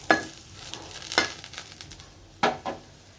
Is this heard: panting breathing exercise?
no